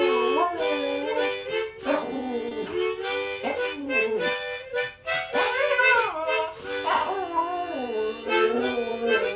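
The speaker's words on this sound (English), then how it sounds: "Man plays harmonica for dog." A dog howls along to a man playing harmonica, its long wavering howls rising and falling and blending with the reedy sustained harmonica notes, both close and continuous throughout.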